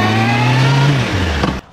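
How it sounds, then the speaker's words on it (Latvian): Suzuki Bandit motorcycle with an aggressive aftermarket exhaust revving up, a loud close engine note climbing then falling before cutting off sharply. "Šitajam moci diezgan agresīvs izputējis."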